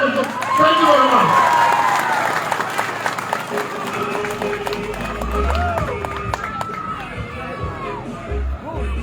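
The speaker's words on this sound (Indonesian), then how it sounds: "Tepuk tangan untuk Saidi Rahman." An audience at a political rally claps and cheers for Saidi Rahman, a loud burst of applause and shouting that fades gradually, with a voice talking over it.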